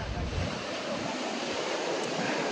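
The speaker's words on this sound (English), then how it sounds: "Waves are strong here, a lot of surfers." Strong ocean surf breaking at a busy surf beach, a steady loud broadband wash of waves with some wind buffeting the microphone, no talking over it.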